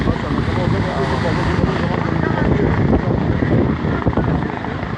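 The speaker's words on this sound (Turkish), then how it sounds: "Şu anda helikopterler geziyor." Police helicopters circling over Izmir after an explosion and gunfight drone in a constant rough roar, mixed with wind buffeting the microphone, while a voice speaks underneath.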